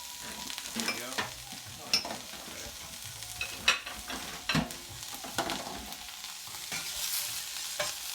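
Fried rice with ginger sizzles in a carbon steel pan while a spatula scrapes and clacks against the bottom in irregular bursts over a constant close frying hiss, with no speech.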